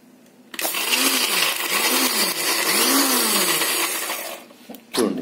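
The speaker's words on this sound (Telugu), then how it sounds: "వేసి మిక్సీ వేసుకుంది." A kitchen mixer grinder whirs loudly for about four seconds while blending chutney ingredients (tomato, green and dried red chillies, coriander, small onions, cumin and salt), its motor pitch wobbling in rhythmic pulses before stopping and starting again briefly.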